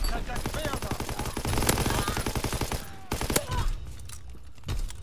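Gunfire in Call of Duty: WWII: dense, rapid machine-gun bursts rattle loudly for about three seconds, then give way to a few isolated sharp shots.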